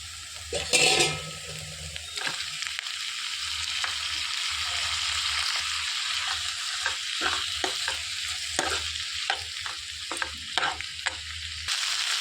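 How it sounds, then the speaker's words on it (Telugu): Vegetables for a cauliflower pepper curry fry in a hot pan with a steady loud sizzle, broken by the scrape and clatter of stirring and a brief splash near the start, with no voices. "పచ్చివాసన పోయే వరకు వేయించుకోవాలి"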